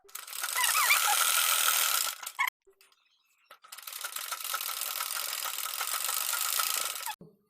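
A sewing machine runs in two long bursts while stitching a folded collar strip for a blouse, with a brief pause between them; the steady mechanical whir is close and fairly loud, with no talking.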